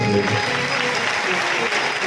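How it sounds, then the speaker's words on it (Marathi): Audience applause at a Mahashivratri temple gathering welcoming the town council president, a dense burst of clapping, loud and close for the whole moment. "त्यांचंही आपण स्वागत करूया. एकदा टाळी वाजवून"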